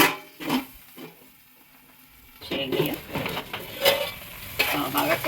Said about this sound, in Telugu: బాగా ఫ్రై అయ్యాయండి ఉల్లిపాయలు.